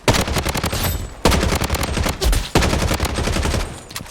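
Assault rifle gunfire in a video game rattles out in three long, rapid automatic bursts, each separated by a brief gap, loud and close with no talking over it.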